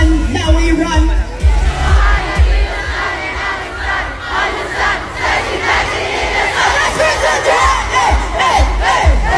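A large crowd at a music festival cheers and shouts together in loud, sustained roars, with rhythmic chanting bursts and a booming low beat underneath.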